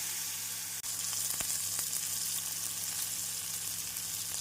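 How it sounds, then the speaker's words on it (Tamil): Steady sizzling of ginger garlic paste frying in a hot pan, continuous and close, with a brief scrape of stirring partway through. "இஞ்சி பூண்டு விழுது சேர்த்து நாம் நன்றாக வதக்கி"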